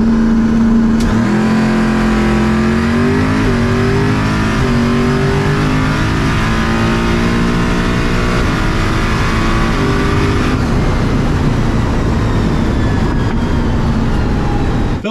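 Race car engine close and loud, revving up through the gears with rising whine and quick shift breaks, then holding a strained roar at speed, no talking.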